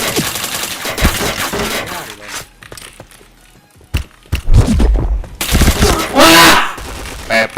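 Gunfire rattles through an online multiplayer shooter match in rapid bursts and single cracks, loud and close, with a brief lull before the shooting resumes, while players talk and shout over it.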